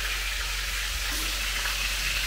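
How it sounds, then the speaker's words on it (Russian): Meat and onion for lagman frying in a pan, a steady close hiss of sizzling with no break and no voices. "Мясо зажарилось"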